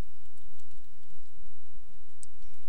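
Someone types a name on a computer keyboard, light key clicks in an uneven run over a steady background hum, with no talking.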